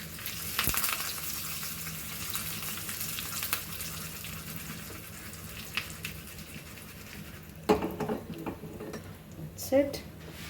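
Curry leaves and one red chili crackle and sizzle in hot oil in a pan, a steady frying hiss with a few sharper clinks of a utensil against the pan and some talking.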